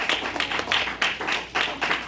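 A church congregation applauds in a brief burst of loud, rhythmic clapping that rises and falls in waves, close and full, with no talking.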